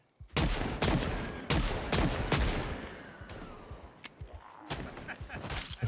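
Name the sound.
gunshots in a video game (Project Zomboid)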